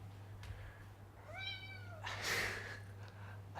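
A cat meows once, a clear rising-and-falling call indoors, followed by a brief rustle against a quiet room with a steady low hum.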